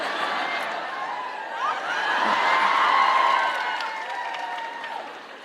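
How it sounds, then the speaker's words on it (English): A live audience at a comedy podcast recording applauds loudly, a sustained wash of clapping with scattered cheers and laughter that swells in the middle and tapers off. "You're applauding a little too loudly for that"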